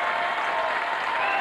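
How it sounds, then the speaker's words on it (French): A studio audience at a French television game show applauds, a dense and even wash of many hands clapping together that stays loud and unbroken from start to finish. "On va encore une fois les applaudir"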